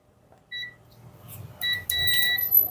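Two short electronic beeps from a continuity tester checking an electric kettle, a brief one then a longer sustained tone, close by with some handling noise and low rumble.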